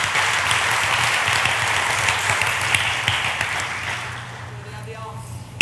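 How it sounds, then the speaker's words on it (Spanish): A church congregation claps loudly and steadily in worship, then the applause dies away and a voice is heard briefly at the end. "¿Cuánto le faithful. puede dar fuerte aplauso a Dios"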